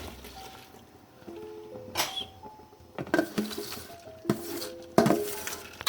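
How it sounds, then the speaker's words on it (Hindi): Uncooked rice poured into a pot of green chickpeas for pulao, giving a patter of grains with a few clinks and rattles against the pot, coming in bursts, close and moderately loud, with no talk. "ये चावल अभी इसके अंदर डालेंगे।"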